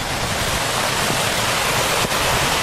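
A creek in the Columbia River Gorge rushes in a loud, unbroken hiss of flowing water, heard up close with no voices.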